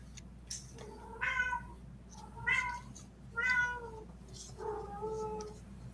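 A cat meows four times in a row, drawn-out and plaintive, fairly close against a low steady hum.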